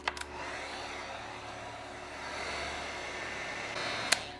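Heat gun drying paint on a canvas, a continuous airy blowing roar held close and steady for several seconds, with a couple of small clicks at the start and a sharp tap near the end.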